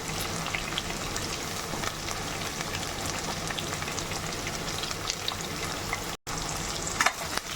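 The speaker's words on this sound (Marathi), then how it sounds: "कढीपत्ता मोहरी चांगली तळली की मग आपण याच्यामध्ये कांदा घालून घ्यायचा आहे" Sliced onion dropped into hot oil with curry leaves and mustard seeds for a potato and pea curry, giving a loud, continuous close-up sizzle and crackle, steady throughout with one brief cut.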